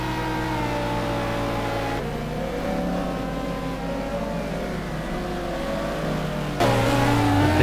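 Ferrari race car engine in a sim GT racing video game, a loud steady high-revving drone that holds pitch, then jumps louder and higher near the end, with no talk.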